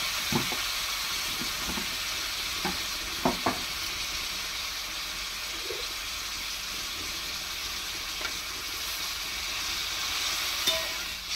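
A rohu fish curry with potatoes simmers and sizzles in the pan after water is added, a soft continuous frying hiss dotted with scattered small pops and clicks, fairly quiet and with no speech.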